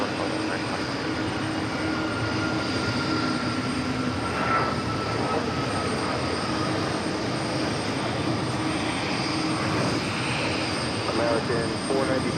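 An Airbus A220 at New York's JFK airport gives a long, steady engine drone with a mournful whine rising slightly, heard from a distance under continuous broadband roar, with talk over it.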